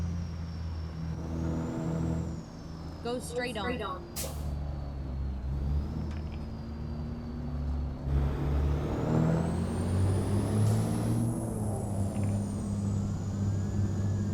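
Kenworth W990 logging truck in American Truck Simulator, its engine droning and growling under acceleration with a short hiss of air brakes, a brief spoken navigation prompt, and the tone rising steadily toward the end.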